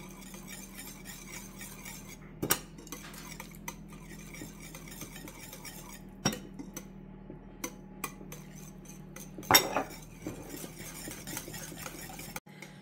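A spoon stirs baking soda into flour in a bowl, quiet, sparse scraping with four or so distinct clinks against the bowl over a near-silent background.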